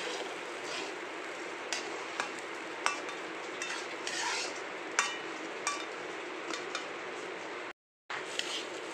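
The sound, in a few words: stirring fried rice with sugar and raisins in a wok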